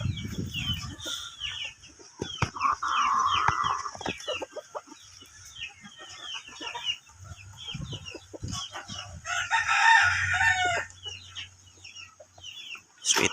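Pumpkin hatch gamefowl rooster, a strip-combed backyard stag, crowing loudly and nearby, with other roosters crowing and clucking around it in a busy flock.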